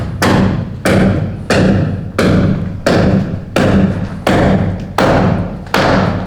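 A door on a building site bangs shut again and again, about nine loud, close thuds at a steady rhythm, each followed by a short ringing decay.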